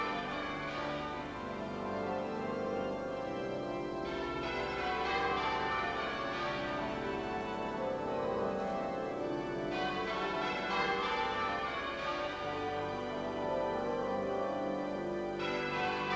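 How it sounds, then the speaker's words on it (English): Half-muffled abbey church bells toll at a state funeral, a continuous, softened peal with repeated strokes under a dense wash of outdoor ambience, no speech. "the bells of the abbey ring out half muffled"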